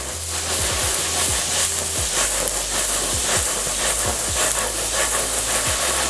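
Gnocchi and garlic pan-fry in browned butter with a steady, close hiss and crackle, with repeated soft scraping strokes as the pieces are stirred and turned.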